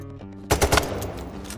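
Video game gunfire aimed at snipers: a short, sharp burst of rapid machine-gun shots after a brief quiet lead-in, loud and close, with rumbling echoes trailing off.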